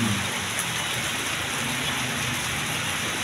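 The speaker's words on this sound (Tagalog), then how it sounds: "maulan po ngayon dito po sa Pasay" Steady rain pours outdoors along Aurora Boulevard in Pasay, a dense continuous hiss of drops on surfaces with a low rumble underneath, no voices.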